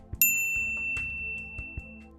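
A bright notification bell ding rings out once, clear and sustained, with its tone decaying over about two seconds alone with no talk.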